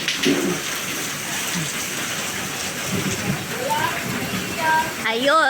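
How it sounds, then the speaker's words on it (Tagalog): Steady rain falls throughout at a family vacation home in the Philippines, a dense even patter close by, with people talking and a voice over it. "Rain, rain, go away na."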